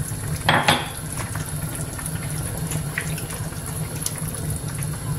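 Hot water splashes into a cooking pan of sautéed vegetables and pork with a short pouring burst near the start, followed by a quiet, steady simmering hiss and faint clinks of cookware.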